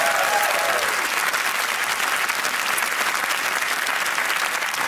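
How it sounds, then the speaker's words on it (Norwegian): Dense, steady applause from an audience, loud and continuous throughout with no voices standing out. "applaus til bakeren fra Oslo"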